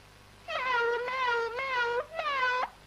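A human voice imitates a cat, giving three drawn-out, whiny meows close by, the first two run together and the third short and rising.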